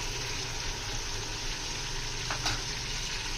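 Medium tomatoes tipped into beef karahi cooking in a pan, giving a steady close sizzle of frying with a brief stirring clatter near the end and no talk.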